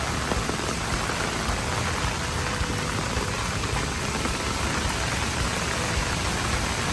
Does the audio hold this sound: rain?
yes